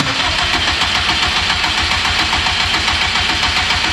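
A 500WHP+ Subaru STi with a newly installed twin-disk clutch and unplugged injectors cranks repeatedly without catching, a loud close rhythmic churning of the starter that runs steadily, then cuts off abruptly at the end.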